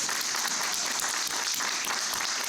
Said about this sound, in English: Once again, let's give them all a round of applause